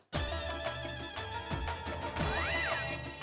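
A telephone ringback tone sounds on a call to a businessman, a loud electronic ringtone melody with repeating tonal pulses and a rising and falling warble, alone without talk.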